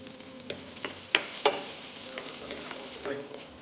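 Zucchini sautés in a pan for a vegetable quesadilla, a soft steady sizzle with occasional sharper clicks and scrapes of stirring, close and fairly quiet.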